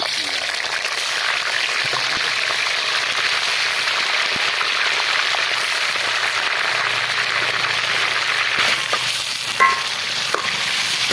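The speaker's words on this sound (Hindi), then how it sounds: "ये इसमें डाल देंगे और इसे हम हाफ फ्राई करेंगे" Washed, dried chicken pieces fry in hot ghee for white karahi, giving a loud, continuous close-up sizzle that crackles evenly throughout with a few brief pops.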